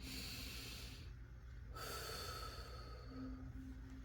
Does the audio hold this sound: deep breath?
yes